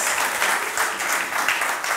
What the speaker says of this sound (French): on peut faire un grand coucou et applaudir un coup ceux qui nous entendront